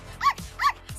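Two short, sharp yips from a small dog, evenly spaced about half a second apart, close and fairly clear against a quiet background.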